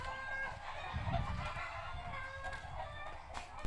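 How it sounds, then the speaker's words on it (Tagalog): Chickens cluck continuously with harmonic calls and occasional crowing, a busy flock chorus at moderate distance with steady background noise. "ang iingay talaga ng mga manok natin dyan"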